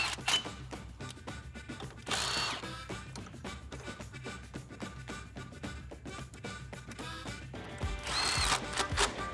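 A power tool with a 10 mm socket whirs in short, repeated bursts, tightening brake line brackets on a 2007-2018 Silverado or Sierra 1500 pickup, close and fairly faint with clicks between runs.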